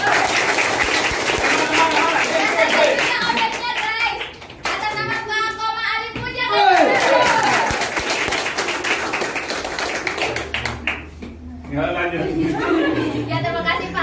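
An audience at an office promotion gathering claps in scattered bursts, with chatter and a voice speaking over much of it.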